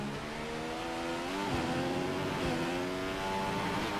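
F1 car engine in F1 2015 at the Spanish Grand Prix, a steady high-pitched whine with slight pitch dips as revs build, faint and continuous with no talking.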